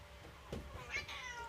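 A domestic cat meows a couple of times indoors, fairly close but soft, with short rising calls over a quiet room background and no talk.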